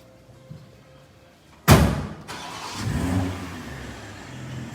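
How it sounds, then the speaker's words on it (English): A 2021 BMW 4 Series engine cranks and catches with a sudden loud burst, then settles into a steady idle. "Matt's gonna start the car up"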